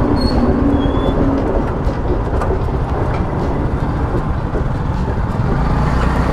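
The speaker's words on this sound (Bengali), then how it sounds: "ট্রেন পেরোলো আর গেট উঠে গেল" A train rumbles past a railway level crossing with a loud, continuous roar and rhythmic clatter of wheels, close by and steady throughout, with no voices.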